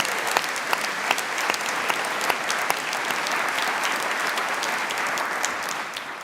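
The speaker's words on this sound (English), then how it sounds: "So let's give them our round of applause too." An audience at a Michigan policy conference breaks into sustained applause, dense clapping from a large crowd filling the room at a steady level, with a faint voice underneath.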